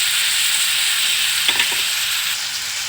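Small onions frying in an oil-filled pan for an okra and dried fish curry with eggs, giving a steady loud sizzle throughout, with a couple of brief stirring scrapes in the middle.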